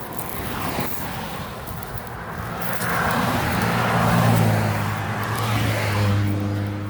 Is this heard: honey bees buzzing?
no